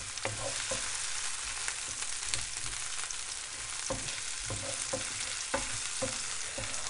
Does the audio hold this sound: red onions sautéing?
yes